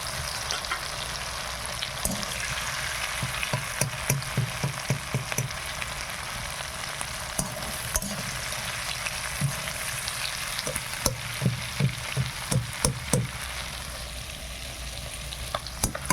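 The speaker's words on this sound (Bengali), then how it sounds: "চিংড়ি মাছগুলো ভেজে নেই ওই তেলে।" Prawns frying in hot oil in a village kitchen, a steady close sizzle with repeated sharp crackles and spits throughout, no talking.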